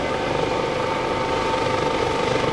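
A US Coast Guard search and rescue helicopter circles during an airshow demonstration at Greenwood Lake, its dense rotor and engine roar loud and unbroken throughout.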